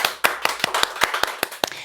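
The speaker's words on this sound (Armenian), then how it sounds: "Շատ լավներ, ծափահարենք։" Steady rhythmic hand clapping from an audience at a children's show, about five sharp claps per second, close and even, with no voices over it.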